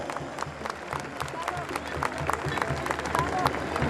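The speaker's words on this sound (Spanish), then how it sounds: "Regálenme el fuerte el aplauso." Crowd applause at a rural bull riding event in San Jerónimo, Michoacán, steady clapping across the stands with scattered louder claps, an announcer's voice and background music running underneath.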